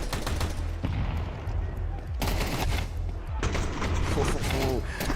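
Tec-9 pistol shots in a Counter-Strike grand final match, bursts of rapid gunfire in repeated volleys with a low rumble underneath and near, loud reports.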